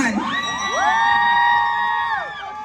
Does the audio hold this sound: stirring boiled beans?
no